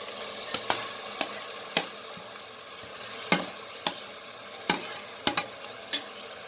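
Chopped tomato and coriander sautéing in a pan, with a steady soft sizzle and about a dozen sharp clicks and scrapes from a spoon stirring against the pan.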